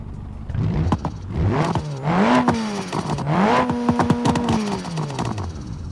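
Four-cylinder drift car engine in a video game, revving up and down in repeated climbing and falling sweeps, loud and close with no voices over it.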